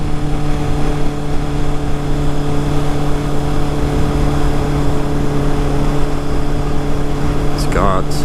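A Yamaha motorcycle with 15,500 miles on it ridden on the road, with a steady loud engine drone and wind rush throughout, and a brief faint squeak near the end.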